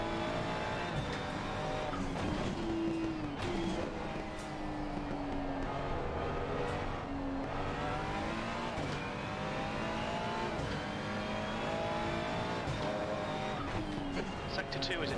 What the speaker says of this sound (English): This car has a very beautiful sound.